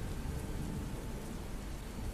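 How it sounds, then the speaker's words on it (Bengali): Continuous rain falls steadily at night in a Bengal village, making a dense, unbroken hiss at an even loudness with no pauses. "চলছে একটানা ধারাবাহিক বৃষ্টি।"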